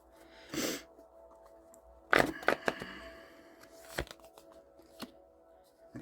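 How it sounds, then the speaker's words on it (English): Tarot cards being cut and shuffled by hand, a soft riffle early on, then a burst of quick flicking and snapping card sounds with scattered taps, close and clear. "Give the deck one more cut."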